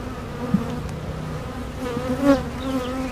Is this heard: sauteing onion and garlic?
no